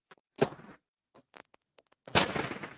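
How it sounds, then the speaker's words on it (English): Fireworks sound effect played from a soundboard: a few sharp, crackling bangs with scattered small pops between them, the last burst loudest and trailing off in crackle, heard alone without talking. "Oh, that was supposed to be fireworks."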